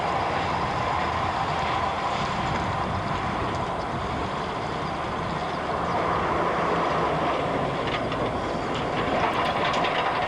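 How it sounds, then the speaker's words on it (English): Bay Colony Railroad train 1061 approaches a road crossing at Dedham Street in 1985, a steady loud rumble and rolling rail noise with faint clatter, continuous and close. "Bay Colony Railroad 1061 is approaching the crossing here at Dedham Street."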